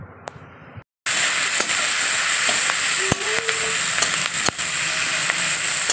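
Onion and green chilli sizzling in very hot mustard oil in a kadai, a sudden loud, steady frying hiss after a short quiet start, with a few clinks and scrapes of stirring.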